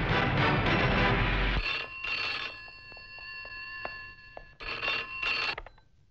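A telephone rings in repeated electronic bursts with short pauses, loud at first under a swell of music, then alone and moderately near.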